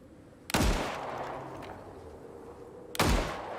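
Two loud, sharp gunshots fired at a bear in the survival game Icarus, about two and a half seconds apart, each with a booming hit and a ringing tail that fades into quiet ambience.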